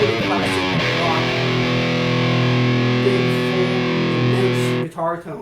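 Electric guitar through a Bad Cat Cougar 50 amp rings out with a distorted classic rock tone, a sustained loud chord held for several seconds before cutting off sharply, with a voice starting just after.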